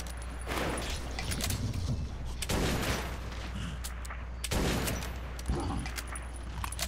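Gunfire in Metro 2033, repeated loud bursts of rapid shooting in three main clusters over a low steady hum, with a voice talking between bursts.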